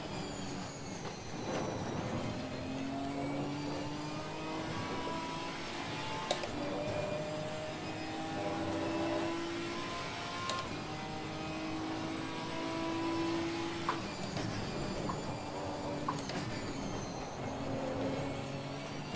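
A Ginetta race car's engine drones loudly and continuously during practice laps at Imola, its pitch rising steadily then dropping sharply with repeated upshifts, with a few brief sharp knocks along the way.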